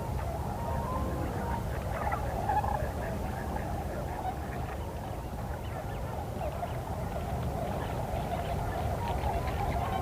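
A flock of tundra and trumpeter swans calls at Eagle Lake in fall, a continuous chorus of honking and bugling from many birds at a distance, layered into a steady murmur.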